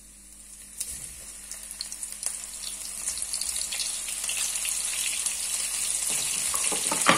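Floured shrimp frying in hot oil for a shrimp soup, a steady sizzle and crackle that builds gradually and holds close and continuous, with faint clinks of utensils and no talking.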